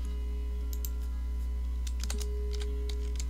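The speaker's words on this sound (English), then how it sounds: "Can I type that in here real quick?" Someone types on a computer keyboard during a live chat stream, giving brief irregular bursts of clicking keystrokes over a steady low electrical hum.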